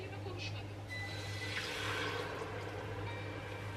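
Starchy pasta water is poured from a pot into a basil and lemon pesto sauce in a home kitchen, a steady splashing liquid stream over a low background hum.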